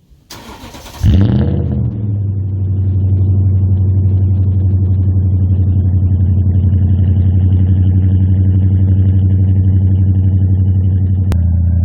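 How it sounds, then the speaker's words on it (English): Toyota Tundra with a 4.6L V8 and custom Y-pipe exhaust with the muffler deleted cold-starts with a loud crank and catch, then settles into a deep, steady, rumbling idle, recorded up close outdoors. "We'll fire this thing up. When it gets warmed up, we'll do a couple of revs."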